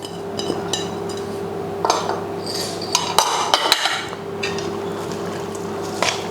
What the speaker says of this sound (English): Mix that right up